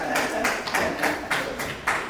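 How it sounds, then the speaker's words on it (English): A small group at a District 47 meeting gives a short burst of applause, irregular close hand claps for about two seconds, with a voice faintly under them. "Please clap for that."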